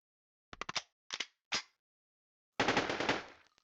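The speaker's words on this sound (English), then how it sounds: "Let's just take a look what happens if we shoot something that isn't this character." Gunfire from a shooter weapon in a Game Creator 2 game: several quick bursts of sharp shots separated by pauses, then a longer rattling automatic volley, crisp and close against silence.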